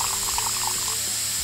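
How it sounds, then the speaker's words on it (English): Liquid pours into a container during a home chemistry mix, a bright bubbling splash with gurgling blips, close and steady under a hissy background, with no talk. "Now we pour it in here."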